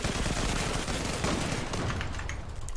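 Dense, continuous gunfire from the online shooter Zula, in a match comparing expensive and cheap weapons: overlapping rapid bursts of shots rattle steadily and loudly for the whole stretch, with no talking.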